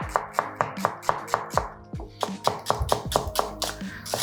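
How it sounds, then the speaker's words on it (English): Steady rhythmic knife strokes on a cutting board as a red onion is finely sliced, each close, crisp chop evenly spaced, with a short pause midway before the quick cadence resumes. "I've got one red onion and I'm going to finely slice"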